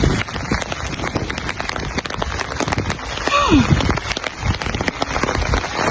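Rain patters steadily and densely on surfaces close by, with a brief whistling or squeaking sound partway through.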